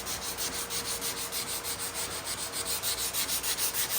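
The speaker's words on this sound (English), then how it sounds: "And of course it wouldn't be our channel without some copious sanding." Scrap wood for a mountain-shaped shelf gets sanded by hand in quick, regular back-and-forth strokes, a close, steady rasping rhythm that continues without pause, no talking.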